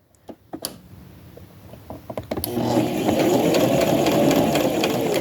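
A sewing machine back-stitches a simple doll dress, starting with a few scattered clicks and handling noises, then settling into a steady, close, continuous whirring drone of stitching for the last few seconds.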